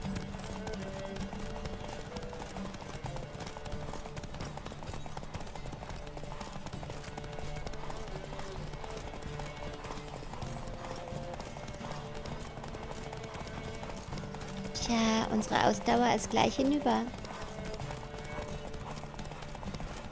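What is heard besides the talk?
horse galloping in a video game race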